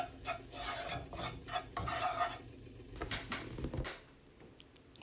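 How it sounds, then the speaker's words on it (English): A metal utensil scrapes and stirs burger steak mixture in a pan over very low heat, rhythmic rasping strokes with clinks against the pan, close and fairly quiet. "Mix really good and lower the fire, like literally super low. Let's mix this really nice."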